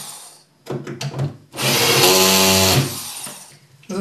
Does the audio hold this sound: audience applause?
no